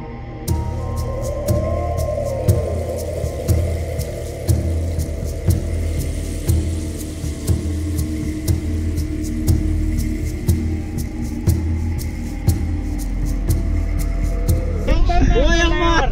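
A shared car driving uphill on a Shimla mountain road, its low engine rumble and throb steady throughout beneath people talking, with a brief rise near the end.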